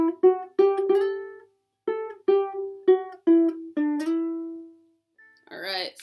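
A ukulele picks the opening verse melody of a song as a run of clear single notes with gaps between phrases, and a brief voice is heard at the very end.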